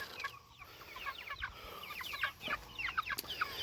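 A flock of about 100 meat chickens clucking and chattering busily, many overlapping soft clucks and peeps at moderate distance, fairly quiet overall with occasional scuffling.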